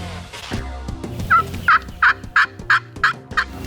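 Wild turkeys gobble on a rainy day outdoors, a loud series of about seven rapid rattling gobbles following a quieter bird call, with steady rain noise underneath.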